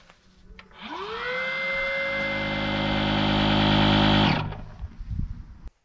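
An electric pump for inflating SUP paddle boards runs steadily for about three and a half seconds. It spins up with a rising whine, settles into a loud motor drone, then cuts off abruptly.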